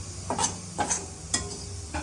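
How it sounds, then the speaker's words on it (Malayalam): A spoon scrapes and stirs ingredients roasting in a pan on a low flame for a Kerala wedding-eve dish, in steady strokes about every half second over a soft sizzle. "തീ കുറച്ച് വെച്ചിട്ട് നൈസായിട്ട് ഇങ്ങനെ നമ്മൾ അല്ലേ വറുത്തെടുക്കണം ആദ്യം"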